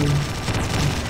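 A dense burst of gunfire from the video game Slendytubbies 3 fills a short moment, loud and continuous with no quiet gaps.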